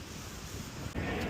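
Sea waves wash in at a seaside beach in a broad, continuous roar mixed with wind buffeting, swelling louder near the end, with no talking.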